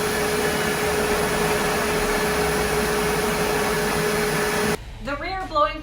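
A DeWalt stainless steel wet dry shop vac runs with its rear blower port going, a loud steady roaring whine that cuts off abruptly near the end, followed by a person speaking.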